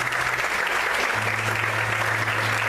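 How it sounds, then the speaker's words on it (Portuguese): A church congregation claps for the Lord, a dense, even roar of many hands that holds steady and loud for the whole stretch, with a low hum running beneath it. "Você pode aplaudir o Senhor?"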